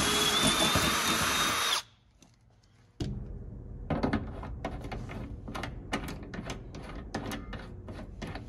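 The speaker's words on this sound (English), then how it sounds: "Now I just gotta drill that out to a quarter inch to receive this M4 rib nut." A power drill whines steadily at close range, stops for about a second, then resumes with rough, uneven grinding and bursts of clatter as it bores a quarter-inch hole through metal in a BMW E36 sedan.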